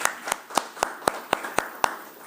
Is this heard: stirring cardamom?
no